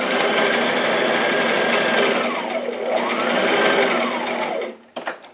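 A sewing machine runs a long continuous gathering stitch on dress fabric with no backstitching, a steady close whir that stops near the end, followed by a few short clicks and bumps.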